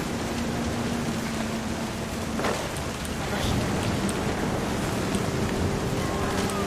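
Steady rain from the video game What Remains of Edith Finch, a dense even hiss that holds throughout and grows slightly louder midway, with a faint low tone and brief soft thuds beneath it.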